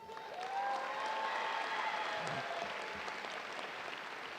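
Sustained applause from a crowd at the 2016 Bowie High School graduation ceremony, steady dense clapping that swells after the first half second and holds, with a faint sustained tone running through the start.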